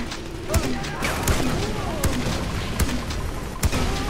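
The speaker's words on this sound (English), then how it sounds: "they are shooting things at me now" Scattered gunshots and booming blasts in a Far Cry 4 custom map, sharp cracks punctuating a thick, continuous roar of battle noise.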